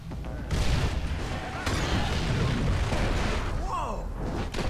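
A loud, rumbling explosion in Far Cry 3 with crackling debris over continuous battle noise, followed by a brief whooshing effect near the end.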